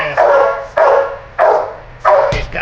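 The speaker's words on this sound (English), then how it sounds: "There's a dog." Dog barking at an animal shelter: four loud, close barks in an evenly spaced series, with a brief extra yip at the end.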